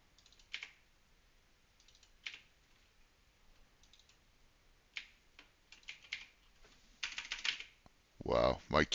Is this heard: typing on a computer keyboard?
yes